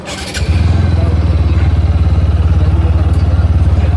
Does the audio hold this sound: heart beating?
no